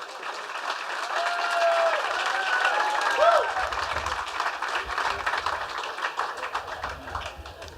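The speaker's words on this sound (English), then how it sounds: "Can we have another round of applause for George Bear?" A crowd applauds at a school system grand opening ceremony with sustained clapping that swells then gradually thins, with some voices and cheers mixed in.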